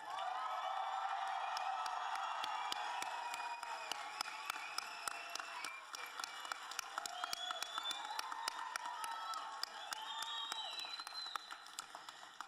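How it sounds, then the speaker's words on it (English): Audience at a School on Wheels high school graduation applauding and cheering the class of 2023, a dense, sustained wash of clapping with whoops and shouts rising above it for the whole stretch. "join me one more time in applauding the class of 2023"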